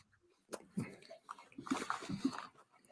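Someone chewing shrimp during a spicy food challenge, with a few moist, irregular bites and mouth sounds close to the mic and no talking.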